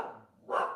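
A single dog gives a short, faint bark, one quick yip-like burst after a moment of near quiet, coming from indoors during a casual gathering.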